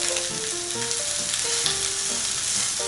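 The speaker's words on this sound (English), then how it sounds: "we are cooking the outside of the ribs" Sweet BBQ pork ribs searing in a hot pan, a loud dense sizzle of spitting fat with scattered pops and tonal squeaks from the meat shifting in the pan.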